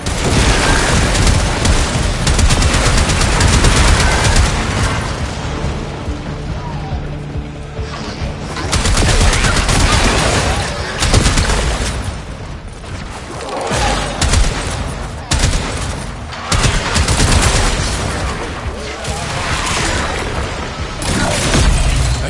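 Heavy gunfire and explosive booms from a necromech battle in the video game Warframe, loud dense bursts and blasts with brief lulls, continuing throughout with faint game voice lines underneath.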